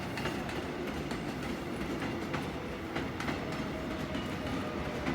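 A Korean electric train pulls into a station platform, with a steady rumbling roar and faint rhythmic wheel clicks heard nearby, no voices.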